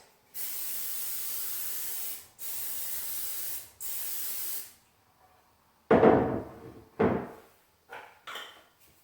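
Cooking spray hisses onto a 9x13 baking pan in three steady bursts, then a few sharper knocks and clatters follow, close by and with no talking.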